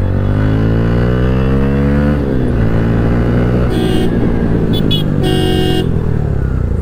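A Pulsar motorcycle fitted with an Akrapovic exhaust revs up close and loud, engine pitch climbing in a rising sweep, dropping at a gear change, then climbing again with brief horn-like bursts near the end.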